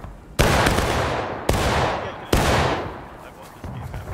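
Musket volley fire in the War of Rights video game: three loud, sharp volleys roughly a second apart, each with a long rolling echo that fades away, with faint background voices.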